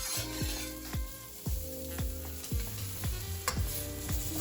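Tofu stir-fries with soy sauce in a hot pan, a constant close sizzle under brisk, regular tossing strokes that land roughly every half second.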